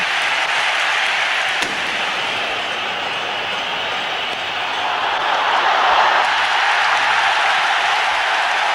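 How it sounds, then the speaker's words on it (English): Big cricket crowd at the India v West Indies Hero Cup final roaring and cheering steadily throughout, a loud continuous wash of stadium noise with a brief sharp knock partway through. "The crowd begins to find its voice again"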